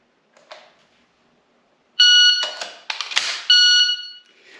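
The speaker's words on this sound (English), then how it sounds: "the buzzer's going to go" A shot timer buzzer during a dry-fire reload drill gives a sharp electronic tone, then again moments later, with clicks and clatter of handling the pistol and magazine in between; nobody speaks.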